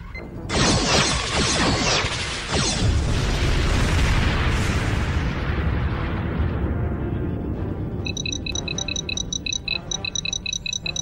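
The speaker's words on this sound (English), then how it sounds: "It's gone! The Rebel ship's been destroyed, sir." A rebel starship blows apart in a Star Trek battle, a huge loud blast with crashing, rumbling debris that rolls on for several seconds before thinning into a rattling tail under electronic beeping.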